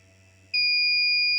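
Buzzer on a homemade smart MPPT solar charger circuit switching on abruptly into a loud, continuous high-pitched electronic tone over a low electrical hum.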